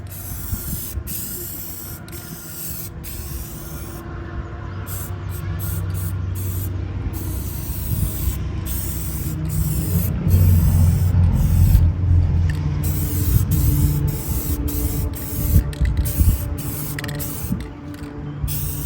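An aerosol can hisses in repeated bursts as a light coat of paint goes onto a Nissan Rogue outdoors in the heat, with short pauses, mechanical rattles and creaks between sprays.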